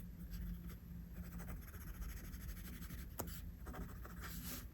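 Pencil scratching in quick, light strokes across paper while eyelashes are drawn on a sketch; soft, close, continuous scribbling with short flicks and no talk.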